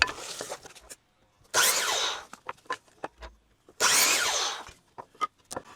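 Chop saw cutting marked wooden boards for a chicken nest box, two loud bursts of blade noise about two seconds apart, each with a rising whine, separated by quieter handling clicks and knocks, with no talking.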